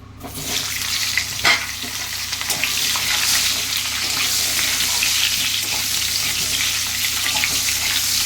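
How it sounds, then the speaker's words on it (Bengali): Steady, loud sizzling of cauliflower frying in hot oil, with occasional stirring and a brief clatter near the start. "ওই তেলেই আমি ফুলকপিগুলো ভেজে নেব।"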